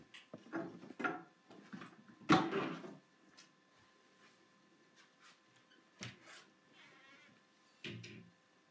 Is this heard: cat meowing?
yes